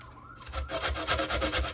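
Fresh coconut flesh grated by hand, quiet at first, then a run of rapid, rhythmic rasping strokes close by.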